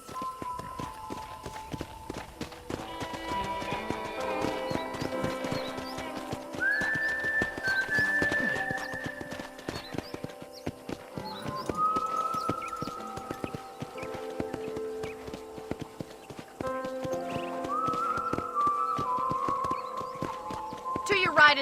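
Horse hooves clip-clop at a walk in the video game Red Dead Redemption, beneath someone talking, with melodic background music and whistled tones layered over the steady footfalls.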